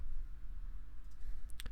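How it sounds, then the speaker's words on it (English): A few quick, light computer mouse clicks sound during a Football Manager session, faint over a low steady hum, bunched toward the end of the short stretch. "Easier than typing in Raul is literally just going to Napoli and clicking their thingy"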